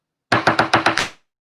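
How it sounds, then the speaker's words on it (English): Five quick, evenly spaced knocks rap sharply on a door, close and loud, followed by silence with no voices. "First I'm laughing, now they're knocking."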